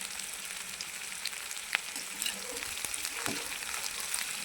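Cauliflower florets stir-fried in a hot pan before chowmein noodles go in, giving a steady low sizzle with a few spatula scrapes and clinks, fairly quiet and with no voices.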